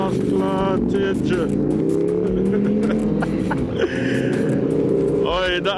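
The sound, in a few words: V-twin motorcycle engine revving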